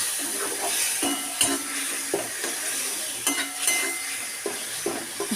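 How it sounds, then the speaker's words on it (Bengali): A spice paste mixed with water goes into hot oil for a Bengali cabbage ghonto, and a constant bright sizzle follows, broken by repeated clinks and scrapes of a spoon stirring in the pan, close by, with no voices. "বাটির মধ্যে গুলে নিচ্ছি দিয়ে দিলাম এই তেলের ওপরে"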